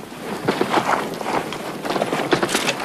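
Shaggy Yakut horses move through deep Siberian snow in extreme cold, their hooves giving a steady run of soft, muffled clip-clop steps close by, with no talk.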